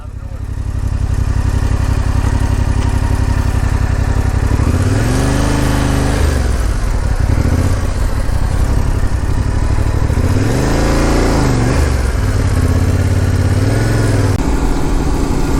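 A T7 motorcycle riding along a road near Crater Lake, its engine droning loudly and steadily, with two clear surges where the revs climb and then fall back.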